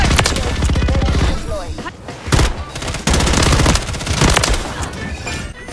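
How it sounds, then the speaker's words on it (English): Dense, rapid gunfire rattles loudly through an online shooter match, with bursts of automatic fire and single shots packed closely together and players' voices mixed in. "Taking fire."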